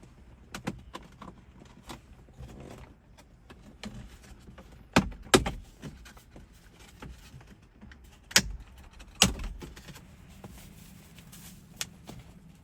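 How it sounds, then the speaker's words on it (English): A plastic dash trim piece on a Chevrolet Silverado or GMC Sierra truck pried and popped out by hand, with a few sharp clicks and snaps spaced apart over a quiet background. "Down here, you've got this trim. And if I recall, this trim just pops out."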